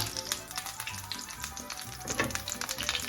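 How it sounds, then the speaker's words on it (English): Meatballs brown in hot fat in a frying pan, giving a dense, crackling sizzle that runs steadily throughout, close and fairly loud, with no voices. "My fat's getting hot. Alright, so, bottom end. I'm just looking to brown these all over."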